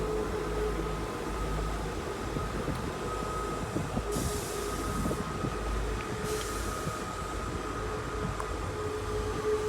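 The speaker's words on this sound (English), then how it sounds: "you don't see this very often, a train going from the bay platform" A train departs from the bay platform at Exeter St David's, a steady rolling rumble with a sustained engine tone and bursts of hiss, heard alone and close throughout.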